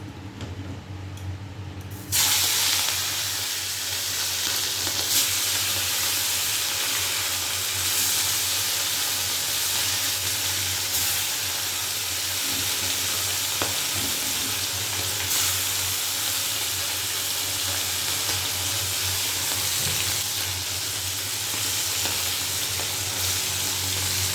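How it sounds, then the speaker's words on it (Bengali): Seashore saltwater fish dropped into hot oil burst into a loud, steady sizzle and crackle after a quieter start, the frying hiss continuing evenly throughout with no talking. "তেল গরম হয়ে গেছে, এবার মাছগুলো দিয়ে দেবো।"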